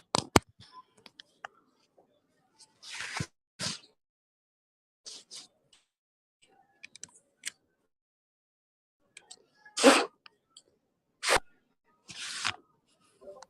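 Someone blows in short sharp puffs into a wall phone-charger plug to clean it: a handful of brief breathy bursts with scattered small clicks and handling noises between them, close and fairly quiet.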